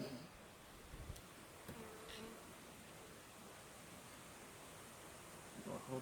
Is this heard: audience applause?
no